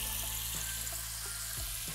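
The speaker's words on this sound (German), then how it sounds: "Und das Ganze covern wir jetzt mit Wasser. Und zwar mit kaltem Wasser." Cold tap water runs into a pot holding a whole chicken with an onion, a steady close rushing stream with a few faint clunks.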